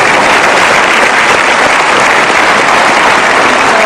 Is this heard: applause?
yes